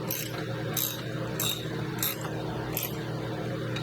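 A ratchet wrench clicks in short bursts while loosening a brake caliper bolt held by factory threadlocker on a KTM, GasGas or Husqvarna dirt bike, about five distinct ratcheting strokes, close and fairly loud over a steady background hum.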